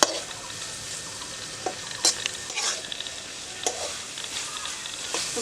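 Pointed gourd (potol) sautéing with spices in a pan for a Bengali milk-potol dish, a steady close sizzle with a few sharp stirring scrapes and clicks scattered throughout.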